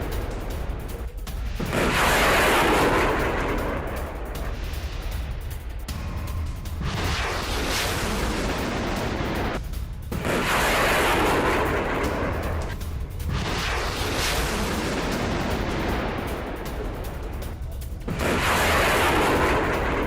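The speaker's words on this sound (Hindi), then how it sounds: "होवित्जर से रूसी सेना का एक्शन आपने देखा" Russian self-propelled howitzer artillery firing in Donetsk, heard as loud sustained rumbling blasts in long roaring bursts separated by brief gaps, close and dominating throughout.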